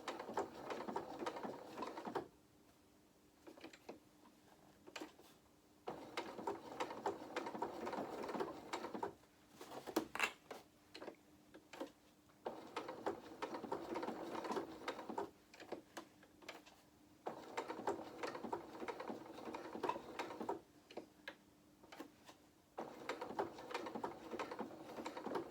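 Sewing machine stitching around appliqué acorns on doll dress fabric: repeated close bursts of quick stitching, several seconds each, separated by short pauses.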